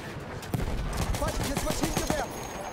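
Gunfire from an M1909 Benét-Mercié machine gun in Battlefield 1 on the Monte Grappa map, in a Conquest match: a run of sharp bursts and single shots, moderately loud, with scattered battle sounds mixed in.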